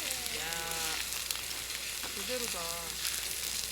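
Pork belly sizzling on a wood-fired grill, a continuous loud crackling sizzle, with short high animal-like squeals or bleat-like tones rising over it and a brief spoken word.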